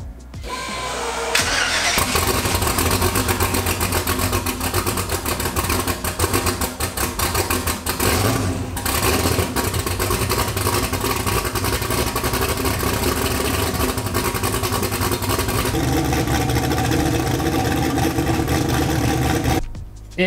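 A twin turbo Mustang cranks over and fires up, then runs for a long stretch at a loud, rough, steady idle with a rapid throb, close and uninterrupted, with no voices.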